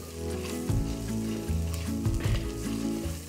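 Masala spices for a Konaseema-style pot biryani frying in a pot, a loud continuous sizzle broken by scraping stirs and clattering bursts of the spoon against the vessel, with no voices.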